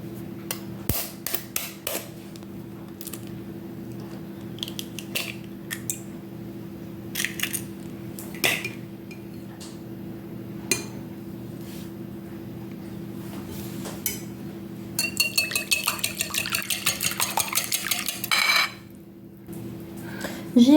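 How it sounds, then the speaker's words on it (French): Muffin batter of milk and egg mixed in a bowl, sparse scattered clinks and taps early on, then a rapid run of rhythmic scraping strokes near the end over a steady low hum. "Une fois qu'on y a mis le lait, on va y ajouter l'œuf et on va tout mélanger"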